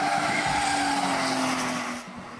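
Modified car doing donuts at night in a fast-food car park, tyres squealing and skidding in a long continuous screech over a revving engine, loud and close, easing off at the end.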